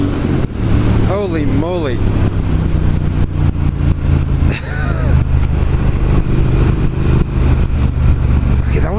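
A 2019 Triumph Speed Twin motorcycle in sports mode accelerating, its engine droning steadily and loudly throughout with rising revs, while a rider speaks and exclaims over it.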